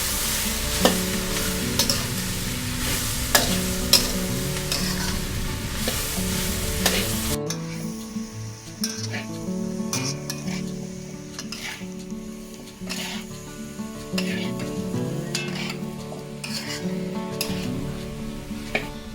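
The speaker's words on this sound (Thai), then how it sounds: "ให้เราใช้ไฟอ่อนนะคะ แล้วก็ผัดต่อไปเรื่อยๆ จนกว่า ส่วนผสมเขาจะแห้งค่ะ" A homemade soup stock mixture with black pepper being stir-fried on low heat until dry gives a continuous gentle sizzle under repeated spatula scraping and stirring, with occasional sharp clinks against the pan, close and with no talking.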